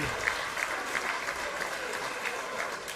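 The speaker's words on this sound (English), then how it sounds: "The crowd showing their appreciation." Crowd at an indie wrestling show applauding steadily after a near-fall in an opening bout, a dense wash of clapping with scattered cheers throughout.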